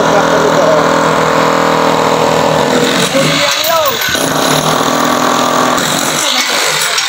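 A hand tractor engine runs with a steady close putter and chug while people talk over it.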